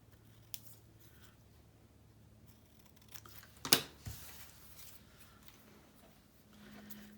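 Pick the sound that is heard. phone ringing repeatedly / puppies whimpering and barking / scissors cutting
scissors cutting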